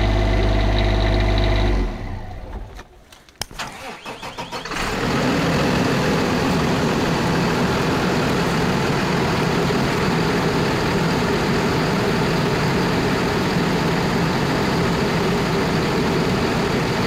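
Diesel engine of a 2015 Newmar Ventana 3635 diesel pusher motorhome cranks over briefly, then settles into a steady, loud, continuous idle that runs alone for the rest of the stretch.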